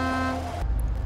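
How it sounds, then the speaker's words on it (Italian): In-game horn of a Kirovets K-700 tractor in Farming Simulator 22, one short steady toot that cuts off abruptly and gives way to low engine rumble. "ascoltiamo anche il clacson già che ci siamo"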